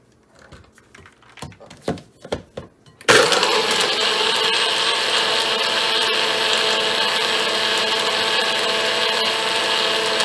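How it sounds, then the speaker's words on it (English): Cherries and cold water go into a blender. A few sharp clacks and taps come first, then the motor kicks on with a loud, steady whirring roar that continues to the end without any speech. "and now I'm ready to blend"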